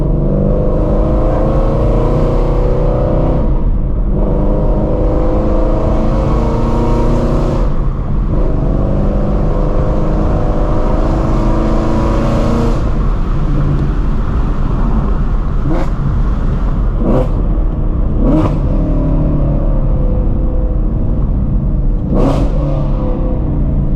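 Shelby GT350 Mustang driving from the cabin with a loud, continuous engine drone that rises and drops as gears are banged through, with several short sharp shift breaks and transients in the later part.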